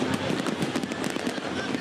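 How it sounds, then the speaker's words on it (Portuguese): New Year fireworks over Copacabana beach in Rio de Janeiro crackle in dense, rapid bursts of popping, heard at a distance with a crowd murmuring throughout. "O Ano Novo foi recebido com um show de fogos que durou 14 minutos"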